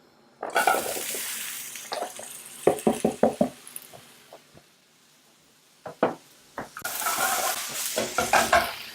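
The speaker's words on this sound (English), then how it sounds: "we're going to put back the frying pan in here and we're going to add the vegetables that we've prepared" Prepared vegetables tossed into a frying pan and stirred as they cook, with bursts of scraping and clattering strokes against the pan over a steady low sizzle, pausing midway before louder, busier stirring resumes.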